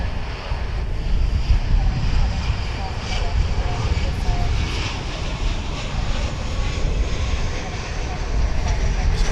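An airplane passes over DFW International Airport with a broad, continuous jet roar mixed with wind noise that stays strong and fairly steady the whole time.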